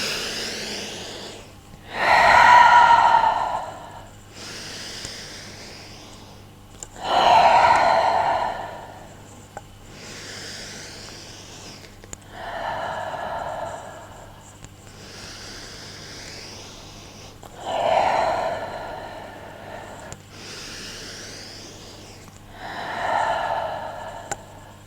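Slow, deep breathing during a yoga meditation, with long audible inhales and exhales repeating in an even rhythm roughly every few seconds, close and clear over a low steady hum.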